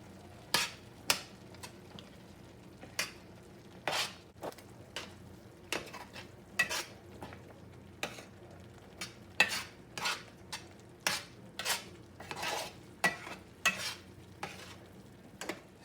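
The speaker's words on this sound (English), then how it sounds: "it's time to add the paneer. And then we mix that through, or fold it in." Paneer being folded into palak curry in a pan, a spoon scraping and knocking against the metal in irregular taps about once a second over a faint sizzle.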